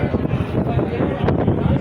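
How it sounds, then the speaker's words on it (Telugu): Strong wind buffets the microphone at Thiruchendur Subramanya Swamy temple with a steady, loud rumbling roar, and a voice is faintly audible beneath it. "గాలి విపరీతమైన గాలి తోలుతుంది"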